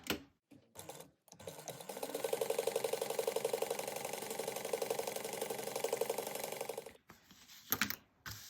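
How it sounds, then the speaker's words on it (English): A sewing machine runs steadily as it top stitches a pocket fold at an eighth of an inch. The close, even mechanical whir lasts about five seconds, with a few brief handling clicks before and after. "we're going to top stitch this at 1/8 of an inch"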